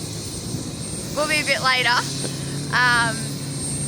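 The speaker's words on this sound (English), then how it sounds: "I'm about to run over and tell him to shut the chopper down" A helicopter runs steadily nearby at an outdoor race, its engine and rotor producing a constant broad drone beneath brief bursts of speech.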